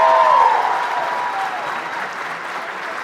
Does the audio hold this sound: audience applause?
yes